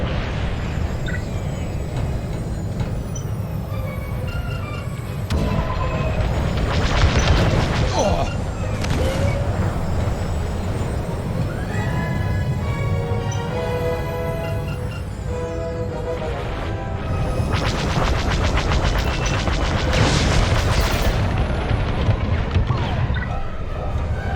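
A Gozanti cruiser exploding in Star Wars: Squadrons space combat, heavy booming blasts and crashing debris swelling over a low engine rumble, with a spacecraft whine and radio chatter around it.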